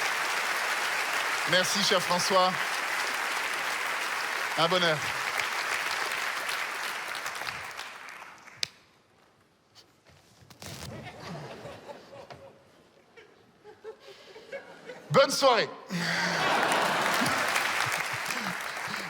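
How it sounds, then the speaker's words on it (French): Audience applause fills a comedy festival hall, loud and sustained, with laughter mixed in; it fades into a quieter stretch where someone speaks on stage, then swells again with another burst of clapping. "Attendez un applaudissement pour notre président de ce soir, François"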